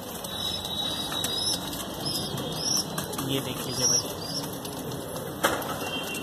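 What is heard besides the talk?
pigeons flapping wings in flight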